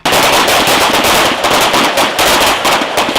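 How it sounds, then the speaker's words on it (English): Rapid bursts of 9mm pistol fire ring out during night training at a military police range, loud and sharp, with shots overlapping into a near-continuous crackle. "instructors introduce a new challenge, firing it in complete darkness"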